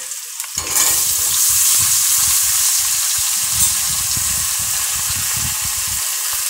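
Pointed gourd, eggplant and small taro fry in a pan with oil, starting with a sharp burst of loud sizzling that settles into a steady crackle, broken by repeated stirring scrapes.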